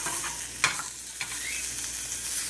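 Lean homemade breakfast sausage frying in a pan, a steady close sizzle with a couple of brief scrape or flip knocks, no voices.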